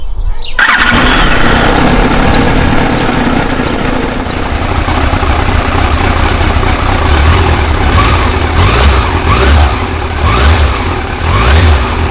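A 2002 Yamaha Fazer motorcycle engine cranks and catches, then runs loudly at a rough, throbbing idle up close.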